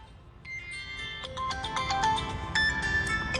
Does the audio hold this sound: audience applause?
no